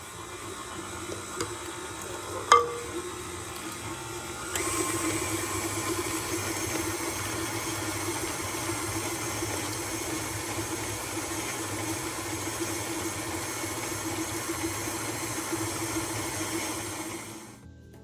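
A stand mixer motor mixes batter with two room-temperature eggs added, starting after a brief clink and then running as a steady, moderately loud whirring drone for about thirteen seconds with no talking.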